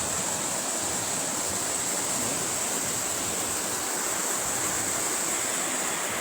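The Cisadane river rushes past in a steady, broad hiss of flowing water, constant and fairly close, with no voices over it.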